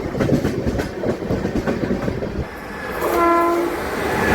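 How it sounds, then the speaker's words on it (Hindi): The Amritsar Shatabdi express, train 12013 from New Delhi, overtakes a passenger train with a loud, close rumble and rhythmic wheel clatter, then a long sustained horn blast near the end. "ट्रेन नंबर 12013 नई दिल्ली से चलकर अमृतसर की ओर जाने वाली अमृतसर शताब्दी ओवरटेक करती हुई हमारी ट्रेन को"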